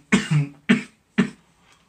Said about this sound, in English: God dang cough